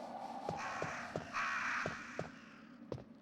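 Crows caw in the Resident Evil video game, a series of sharp, separate calls spaced through the stretch, moderately loud over a low ambient game hum with no talk.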